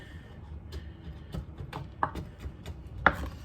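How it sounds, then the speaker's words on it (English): A knife taps repeatedly on a cutting board while garlic is minced in a home kitchen, an irregular series of faint knocks with one or two sharper strikes. "I'm horrible about mincing garlic"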